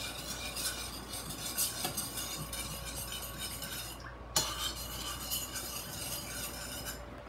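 A spoon scrapes steadily around a pot of rice and beans, stirring them in a continuous close scraping rhythm with one sharper knock against the pot partway through.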